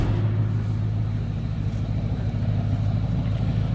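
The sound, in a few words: vintage Ford coupe engine exhaust running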